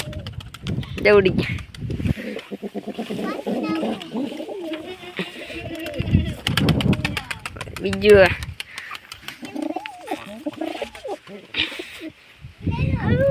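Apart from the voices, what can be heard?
pigeons cooing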